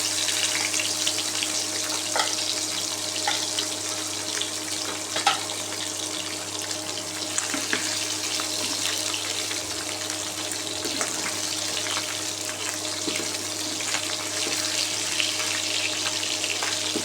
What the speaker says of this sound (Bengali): এবং সবগুলো মাছ ভেজে নেব